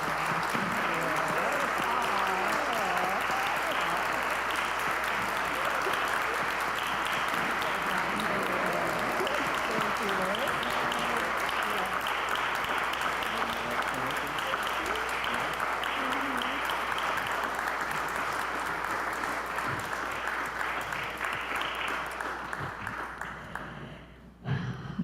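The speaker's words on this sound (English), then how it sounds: "Let's do one more round of applause for our three wonderful panelists." A seminar audience at Whitney Plantation applauds its three panelists: dense, sustained clapping that stays loud and even for over twenty seconds before cutting off abruptly at the end.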